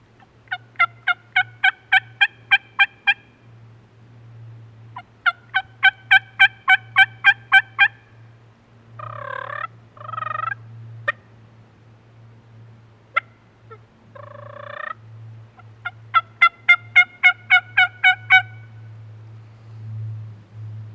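Turkey calls blown on a diaphragm call: quick bursts of about eight sharp yelps, broken by a few lower clucks and purrs, close and loud over a steady low hum, with no talk.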